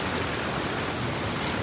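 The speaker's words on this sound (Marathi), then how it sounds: "वातावरण बघा, पाऊस पडायला लागला" Steady, dense rain falls at Mandavkada waterfall, a constant broadband hiss with no break or voices.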